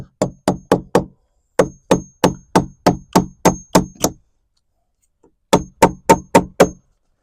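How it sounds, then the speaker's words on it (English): A hammer striking while a log shed roof is upgraded, sharp metallic knocks in quick bursts of four to eight blows with a short pause between groups, loud and close. "Ugliest way to hold a hammer, but it worked."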